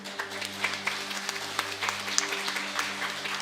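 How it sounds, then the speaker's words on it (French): A church congregation applauds, with a short, fairly soft patter of clapping over a steady low hum in a large room. "on peut les applaudir."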